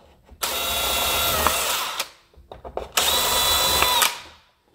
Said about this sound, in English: Go ahead and drill those.